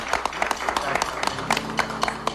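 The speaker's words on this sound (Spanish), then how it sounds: "Venga, el aplauso." Studio audience applauding on a Mexican nostalgia music variety show, dense steady clapping with a few sharper claps standing out, a band faintly playing underneath.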